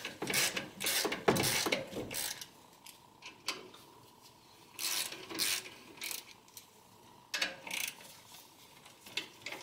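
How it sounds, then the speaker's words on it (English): A ratchet with a 12mm socket loosens a clamp on a Subaru, giving bursts of rapid clicking followed by pauses. There are repeated short ratcheting strokes up close, with no talking. "we're going to use our 12mm socket first to loosen this clamp here"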